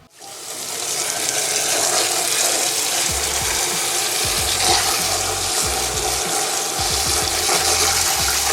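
Strong running water from a tap rinses soap out of a hat at close range, a loud steady rush with intermittent low splashing and knocking as the hat is worked under the stream.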